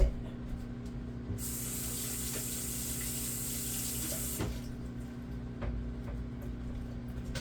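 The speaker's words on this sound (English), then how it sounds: "I'm just gonna wash my hands." A kitchen tap runs while hands are washed during homemade mac and cheese prep, a steady, bright rush of water that starts about a second in, holds for a few seconds, then cuts off over a low background hum.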